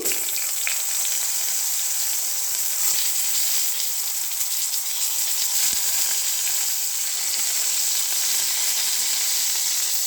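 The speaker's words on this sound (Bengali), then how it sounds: "এরকম করে ভাজছি এরকম করে।" Eggplant slices frying in a pan, a dense, steady hiss of sizzling oil that continues evenly and fairly loud for the whole stretch, with no voices.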